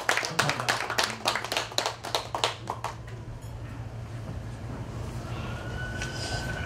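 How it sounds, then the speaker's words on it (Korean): Applause welcoming a former lawmaker at a Korean community meeting: a few seconds of loud, distinct handclaps from a modest crowd, then the clapping thins and dies away into quiet room tone with a low hum. "다 같이 박수로 맞으시기 바랍니다"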